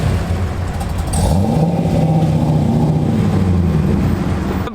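Cammed Corvette engine revving and running rich, a loud continuous rumble that climbs in pitch and holds steady close by, with no talking over it.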